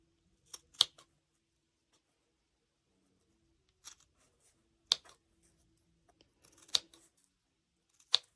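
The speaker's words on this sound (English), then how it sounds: "In this section, I'm going to snip so that when I turn it inside out," Scissors snip through fabric at the curved corner of a large messenger crossbody bag, a handful of short, crisp cuts spaced apart with quiet pauses between them, close and fairly soft.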